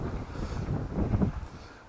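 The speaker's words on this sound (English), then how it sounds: "it's getting windy." Wind gusts buffet the microphone at an outdoor allotment, a low, rumbling, fluctuating blast that swells and fades over about two seconds, with no talk.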